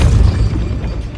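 A Depulso spell blasts into its target in Hogwarts Legacy, landing as a loud, deep booming burst that fades out over about a second.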